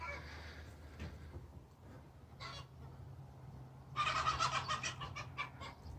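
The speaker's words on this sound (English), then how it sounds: "chickens are going crazy" Hens cluck and squawk in an excited burst from a short distance, rising into a noisy flurry of calls over faint background murmur.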